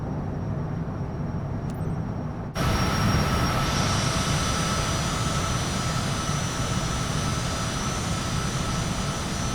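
Cessna Citation CJ4 business jet climbing after takeoff in Microsoft Flight Simulator 2024. A steady, loud jet engine roar is heard, and it jumps to a fuller, stronger drone partway through and holds with no talking.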